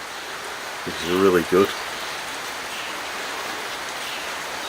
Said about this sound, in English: And we have this magical thing called rain.